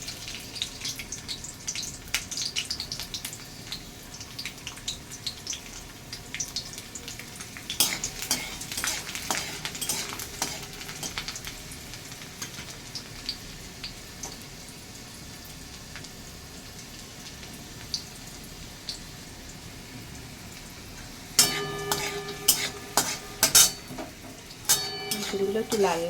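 Dried red chili and garlic frying in a wok, a soft continuous sizzle under occasional talk, then a cluster of sharp metallic clinks and scrapes of a utensil near the end.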